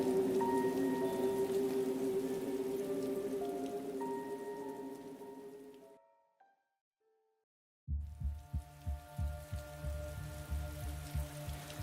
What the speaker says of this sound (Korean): 비는 계속 쏟아지고